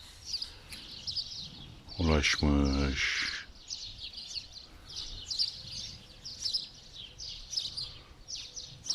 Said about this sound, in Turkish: kuş sıvıltıları içerisinde oturuyorsunuz